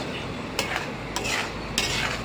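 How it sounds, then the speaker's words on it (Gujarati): Sabudana farali khichdi with peanuts being stirred in a pan, a soft hissing background broken by three or four brisk scraping strokes of a spoon against the pan. "હવે બધું હલાવી નાખીશું એટલે મિક્સ થાય"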